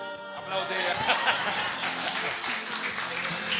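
Church congregation applauding, a burst of steady clapping mixed with chuckles, laughter and voices talking over it.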